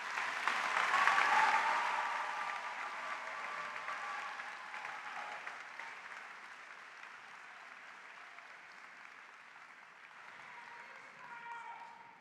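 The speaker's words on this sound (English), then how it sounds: "let's give her a well-deserved round of applause" Audience applause at the OSU-Tulsa spring commencement ceremony, a broad wash of many hands clapping that swells loud at the start, then eases off and lingers at a steady moderate level before a small late rise.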